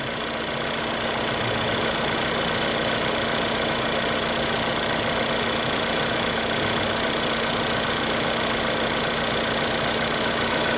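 A Lincoln MKC engine idles steadily to recharge a low battery, a constant mid-pitched hum with a faint knocking texture and an even drone throughout, no voices.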